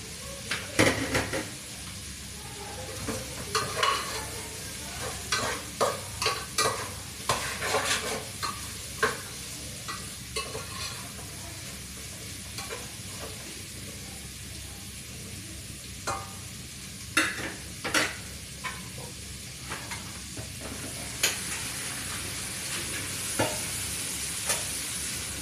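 Chayote and onion with onion leaves stir-fried in a pan for a sautéed vegetable dish, with steady sizzling under frequent scraping and clinking of a utensil against the pan throughout.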